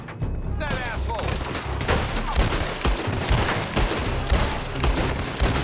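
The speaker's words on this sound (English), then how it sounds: "One of these shots will hit, surely." Gunfire in the video game Red Dead Redemption II, with rapid, overlapping shots and sharp cracks in a sustained exchange, along with whistling ricochets early on.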